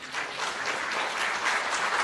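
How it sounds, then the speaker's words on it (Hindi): Steady, dense applause from an audience at an Indian ceremony with a lamp-lighting ritual, loud and continuous from start to finish. "जोरदार तालियां बजती रहें।"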